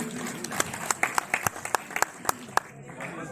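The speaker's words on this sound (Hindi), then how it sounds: "एक बार जोरदार तालियां हो जाए इन सब के लिए प्लीज" Applause at a talent award ceremony for honorees, modest and scattered, with a handful of distinct claps standing out over a murmuring room and voices.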